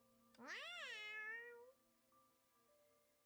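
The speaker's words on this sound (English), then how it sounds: "Can comes in with the meow." A cat meows in a video game, one long drawn-out meow rising and falling in pitch, loud and close over a quiet background of game music.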